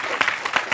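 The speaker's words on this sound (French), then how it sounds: "vous pouvez applaudir Raymond, une cuisinière émérite." Brief burst of audience applause at a live French cooking demonstration, a few loud broadband clapping swells in under a second.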